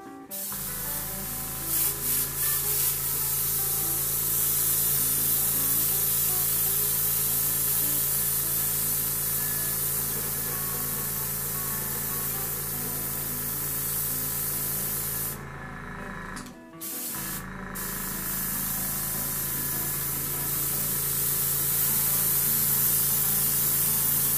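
An airbrush sprays watery weathering paint onto an N scale 50-foot boxcar, giving a steady close hiss that runs almost unbroken, with a short break near the end before the spray resumes.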